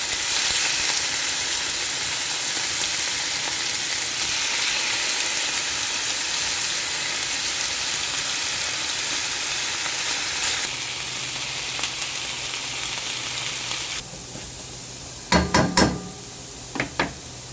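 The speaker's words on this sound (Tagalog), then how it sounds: "Fry natin tong pork na binabad sa toyo kalamansi." Soy-and-calamansi-marinated pork liempo fries in a pan with a steady, bright crackling sizzle that softens partway through, followed by a few sharp knocks of a utensil near the end.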